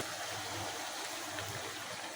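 Broth poured into a pot of beef and taro stolon (kochur loti) curry, a steady soft pouring and bubbling wash of liquid, fairly faint and continuous with no talking.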